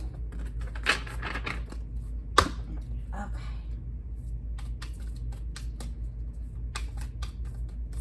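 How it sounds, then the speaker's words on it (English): A quick series of crisp tarot card riffles and flicks up close, with sharp snaps between softer shuffling in a quiet room. "let's do one more little shuffle"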